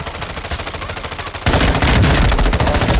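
Rapid automatic gunfire from the video game Warzone rattles in continuous bursts, then turns louder and denser midway as more weapons join in.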